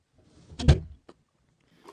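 An indoor bedroom door is pushed shut with a soft thud and latch click, followed by a faint second click and a small rattle, quiet and near in an otherwise still room.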